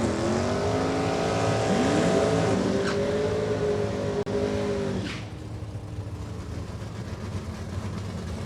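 A drag race car launches and runs down the strip, engine roaring steadily and shifting pitch, then fading into distant crowd and track noise; no talking.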